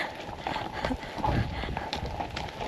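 Horse hooves clip-clop on a mountain trail on the way to Kaindy Lake, Kazakhstan, in an uneven rhythm of close, moderately loud thuds, with a voice talking over them.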